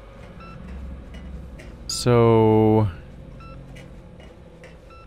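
A mushroom detector in the game INFRA emits faint, evenly spaced high beeps that repeat throughout, interrupted once by a loud sustained harmonic tone, while someone briefly speaks.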